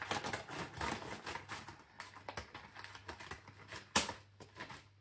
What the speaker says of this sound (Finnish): Mä otin sakset, mä avaan tän nyt tälleen rumasti